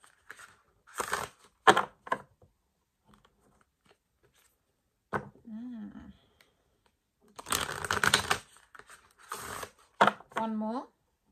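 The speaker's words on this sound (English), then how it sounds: "let's get a couple shuffles" Tarot cards are shuffled in several quick, crisp riffling bursts close by, separated by quiet gaps, with a few soft spoken words between them.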